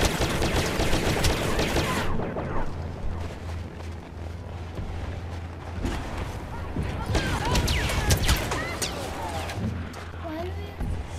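Blaster fire from Star Wars Battlefront crackles in dense, rapid volleys over a steady battle rumble, loud and close, with people talking over the game.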